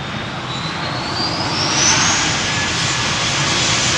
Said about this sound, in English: A320 to Frankfurt. Lufthansa flight 987. Rolling start, turn and burn.